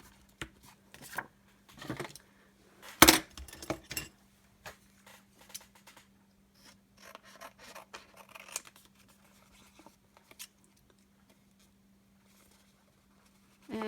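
Scissors cut a piece of paper for a December Daily scrapbook page: scattered crisp snips and paper rustles, one sharp louder snip near the middle, spaced by quiet gaps with faint handling noise.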